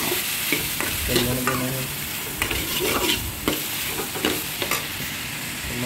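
Potato and tomato sabzi sizzling in a pan while being stirred, with repeated scraping stir strokes over a constant frying hiss and a few brief spoken words.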